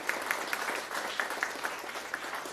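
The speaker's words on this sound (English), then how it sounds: "May I have a round of applause for that as well?" A live audience at a talk event gives a round of applause, a steady patter of many hands clapping with a few sharp nearby claps punctuating it, moderately loud and without speech.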